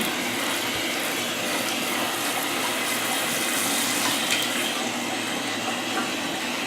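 A handheld shower wand sprays a constant loud hiss of water while a cat is bathed, the steady rush filling the whole stretch without pause.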